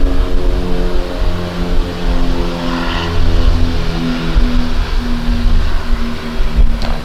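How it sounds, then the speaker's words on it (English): Quantum Q6 Edge power wheelchair with its power seat lift raising, a steady mechanical motor hum with a low droning whine held evenly throughout, fairly loud and close with no talking. "So I'm going to raise the seat up right now to show you what it looks like with the seat elevated"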